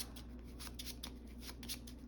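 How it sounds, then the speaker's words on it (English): Playing cards for a tabletop card game being shuffled close by, a quick run of soft riffles and light flicks at a low, even level. "Shuffle that back."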